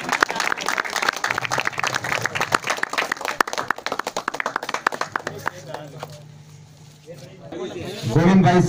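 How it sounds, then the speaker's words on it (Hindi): Outdoor crowd at a village cricket tournament clapping in dense, uneven applause to welcome a guest, fading out after several seconds while someone speaks over a loudspeaker. "जोरदार उनका स्वागत करें तालियों के साथ।"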